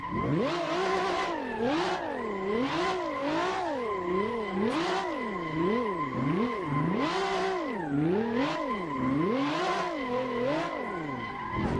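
High-revving race car engine in the video game Assetto Corsa, drifting on a mountain pass, with rapid rises and falls in pitch as the throttle is worked and tires squeal, loud and continuous with no talk.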